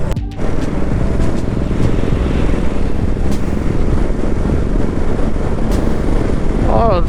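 Motorcycle ridden in the morning near a river en route to hills in Purulia, a steady close engine drone with heavy wind rumble throughout.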